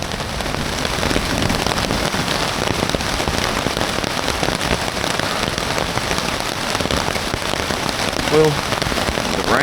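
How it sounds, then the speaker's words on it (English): Heavy rain pounds steadily on a tent at a bushcraft camping gathering in Georgia at 4:30 in the morning, a dense, continuous hiss and patter of drops on the surface throughout, with no talk. "Well, the rain's finally made it. It's 4:30 in the morning, and it just hit, and it's storming."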